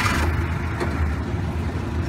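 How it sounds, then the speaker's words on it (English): A 1928 Lincoln touring car's engine runs with a steady low rumble and mechanical hum, heard close up after the starter generator engages, with a faint whine early on and no talking. "You can hear the starter generator activating."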